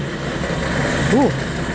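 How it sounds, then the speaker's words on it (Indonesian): Street traffic hums steadily in Solo, Indonesia, with engine noise from passing motorbikes, one briefly revving with a rising and falling whine. "di jalan ternyata masih berisik banget tuh, ada motor pada lalu lalang"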